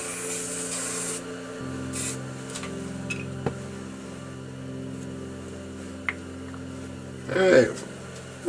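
Short hissing bursts from a can of black spray paint sprayed through a stencil onto a swing set, a few quiet spurts between brief pauses, ending with a light clatter.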